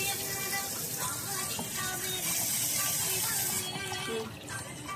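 Tap water runs steadily from a faucet while hands are rubbed and washed, a continuous close splashing stream with a brief shift in flow near the end and faint voices underneath.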